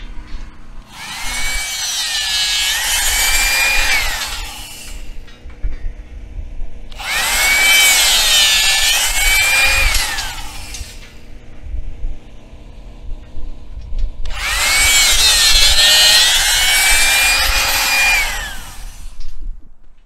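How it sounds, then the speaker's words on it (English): A powered rebar cutter runs in three separate loud bursts of whining motor noise, each a few seconds long with a rising and falling pitch, separated by short pauses, while cutting 5/8 inch steel rebar at a building site. "So that thing cuts that easy through 5/8 inch steel"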